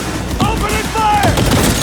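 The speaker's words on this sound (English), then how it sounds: "Opening fire!" A squad fires guns in a Cyberpunk 2077 firefight, with bursts of loud, close shots running under voices.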